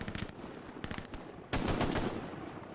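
Machine gun fire in Hell Let Loose, several rapid rattling bursts, the last one louder and longer, up close with no talk.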